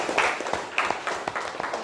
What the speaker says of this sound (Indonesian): Tepuk tangan kepada kelompok yang